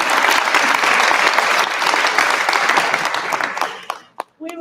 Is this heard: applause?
yes